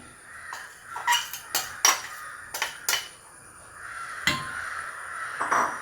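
A spoon clanks and scrapes against a metal pot while grated coconut and rice flour mix is stirred in, making irregular, close, sharp knocks with quiet pauses between them.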